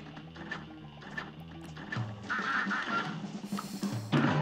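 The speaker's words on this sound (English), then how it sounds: "Those fucking ducks." Cartoonish quacking ducks in the Cuphead video game's carnival level, repeated bursts over busy game music and effects, fairly loud and continuous throughout.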